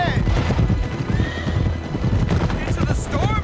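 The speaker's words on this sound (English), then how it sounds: "Got our horses! My Pegasus!" Horses gallop with rapid clip-clopping hooves in Uncharted 3, with several shrill neighs and whinnies rising over the hoofbeats while voices talk over the action.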